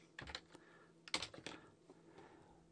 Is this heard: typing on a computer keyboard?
yes